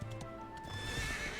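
Horse in the video game Dragon Quest XI, with clip-clop hoofbeats followed by a clear neigh, close and loud with no talk.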